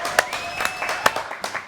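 Studio audience applause on a French TV show greets a singer, a short burst of clapping with a few sharp claps standing out over a busy room tone.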